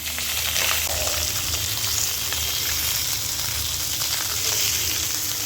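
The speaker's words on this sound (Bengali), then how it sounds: "এবার আমি মাছটা ভেজে নেব" Pieces of pabda fish coated in salt and turmeric sizzle steadily in hot oil, a loud, continuous crackling hiss close by with no voices over it.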